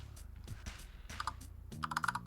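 Computer keyboard typing, a quiet, close series of irregular key clicks and taps, with a denser cluster of keystrokes toward the end and no speech.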